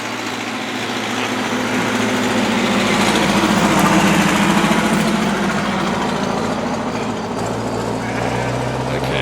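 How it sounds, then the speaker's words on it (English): A farm tractor engine drives past on a country road in rural France, a steady droning rumble that swells toward the middle and eases off again, fairly loud and close. "Tractors went past with a bunch of lambs in the back."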